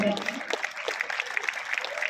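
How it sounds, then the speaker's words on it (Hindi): Audience at a university event gives a hearty welcoming round of applause for a dignitary, with dense, steady clapping filling the room for a couple of seconds. "एक बार जोरदार तालियों से स्वागत"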